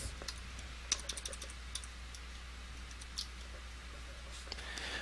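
Quick bursts of keystrokes on a computer keyboard as a login ID and password are entered, light irregular clicks over a steady low hum, close and fairly quiet.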